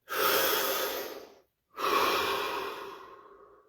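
Two slow, deep breaths taken close to the mic, each a long airy rush that fades out, with a short silent pause between them during a guided body-scan session.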